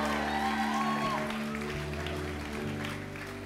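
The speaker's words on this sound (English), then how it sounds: "let's give her a cheer, bless her" A church congregation cheers and applauds for a young girl at her baptism, a broad steady wash of clapping and voices that stays loud throughout and eases off slightly near the end.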